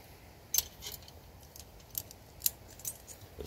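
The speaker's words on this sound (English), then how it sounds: "This is a piece of stainless steel chain off of a piece of farm equipment." A stainless steel chain taken from a farm fertilizer spreader is handled, giving a few faint, scattered metallic clinks and jingles against a quiet background.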